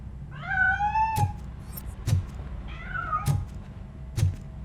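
A cat meows twice in the video game RoboCop: Rogue City, each call drawn out and rising, mixed with sharp knocking thumps at regular intervals in a quiet indoor space with no voices.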